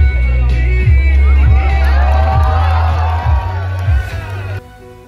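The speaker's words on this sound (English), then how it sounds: "the people here were so good as they were cheering for each and every pet" Crowd cheering at a pet show held at an engineering college, loud whoops and shouts over babbling voices with a steady low hum beneath, fading near the end.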